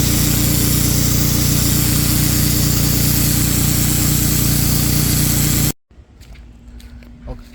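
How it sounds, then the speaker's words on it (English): A gas-powered pressure washer fitted with a turbo nozzle sprays outdoors, its engine roaring loud and steady for several seconds before cutting off abruptly, leaving quieter background sounds. "We're gonna see what this pressure washer is gonna do."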